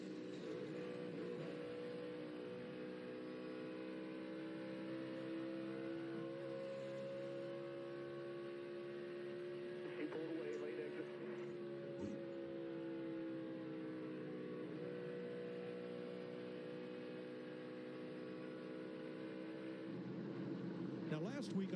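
Race cars at the Coca-Cola 600, driven flat on the throttle, drone as a sustained multi-layered engine whine with steady held pitch, distant and constant, and a commentator talking over it.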